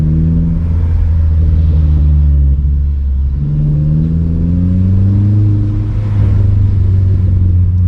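Vauxhall Corsa with an aftermarket exhaust heard while driving: a loud deep exhaust drone whose pitch rises and falls through gentle acceleration and gear changes, heard from inside the car.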